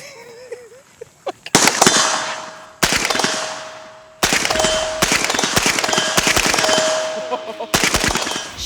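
Rapid strings of pistol-caliber gunfire ring out at a range, shots hitting steel targets, several loud bursts with brief pauses between strings, a sustained metallic ring lingering through the volleys.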